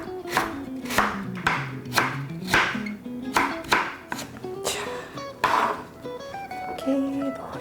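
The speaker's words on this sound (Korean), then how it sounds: "이렇게 한쪽은 껍질이 되게 위로 두고 채를 썰어 줄게요" A knife julienning radish on a cutting board gives a series of crisp, evenly spaced chops, about a dozen strokes close up, while a person talks over them.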